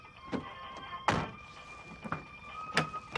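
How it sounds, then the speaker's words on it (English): A door is shut with a solid thunk partway through, surrounded by a few softer knocks and bumps in a quiet interior with a faint steady hum. "Shut the door"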